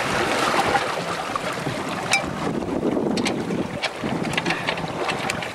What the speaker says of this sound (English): We're in 30 knots of breeze and we're doing about